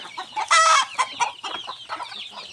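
Mixed-breed chickens including Rhode Island Reds, clucking and calling in a farm setting, with a louder burst of squawking partway through and scattered overlapping clucks throughout.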